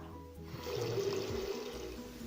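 Water gushes briefly from a tap in a home, a short splashing rush that swells and then eases over about two seconds.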